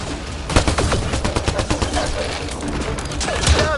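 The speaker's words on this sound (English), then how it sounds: "Just keep firing!" Rapid, continuous gunfire from several weapons firing at once, a loud dense clatter of overlapping shots with a heavy low thump, while voices shout over the barrage.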